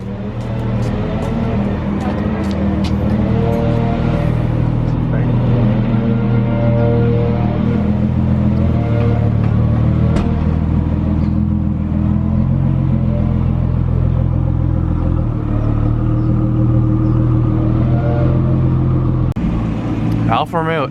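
A custom Lamborghini Huracan Evo at a fancy car show gives a loud, steady, deep engine rumble throughout, with people talking over it close by.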